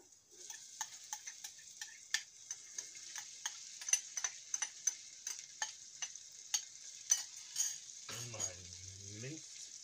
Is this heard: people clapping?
no